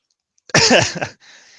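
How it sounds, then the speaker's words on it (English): A single short, soft cough, like a light throat-clearing, close by in an otherwise quiet space, followed by a faint hiss. "There's a polite cough behind you."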